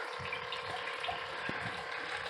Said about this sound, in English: It's just pumping water and cycling.